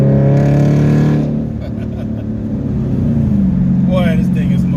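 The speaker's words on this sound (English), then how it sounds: "the exhaust sounds a little bit different" A Dodge Charger SRT8 with an upgraded exhaust revs loudly up close, then the engine note settles into a lower, steadier rumble, with someone talking over it near the end.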